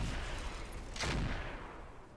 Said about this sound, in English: Well, at least one of the PPCs hit.